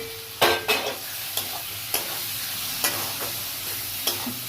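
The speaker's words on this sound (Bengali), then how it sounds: "এবার আমি শিম আলুটা ঢেলে দিয়ে দেবো।" Beans and potatoes tipped into a hot, spiced pan for a tangra fish curry crackle and sizzle steadily, with a few sharp spatula knocks and scrapes spaced through the close, continuous hiss.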